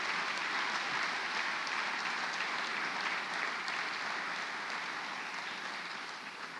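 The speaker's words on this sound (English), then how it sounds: "Let's give them a round of applause for all the help they did" A large graduation audience gives sustained applause for teachers and staff, a thick, even wash of clapping that holds steady and only eases slightly toward the end.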